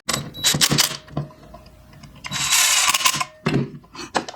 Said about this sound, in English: I'm going to drive the 2 screws that I need for this into the smaller piece